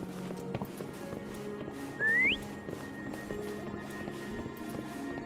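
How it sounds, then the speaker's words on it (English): A single short rising whistle in the video game Wuthering Waves sounds, quick and clear, over a quiet background with faint hoof-like clopping and soft footsteps. "Why don't you call Foam over? Try whistling."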